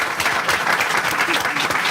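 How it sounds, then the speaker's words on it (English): Audience applause at a school board meeting, steady dense clapping from a crowd filling the whole stretch without a break. "Give them a round of applause."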